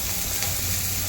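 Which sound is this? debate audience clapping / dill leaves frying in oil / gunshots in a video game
dill leaves frying in oil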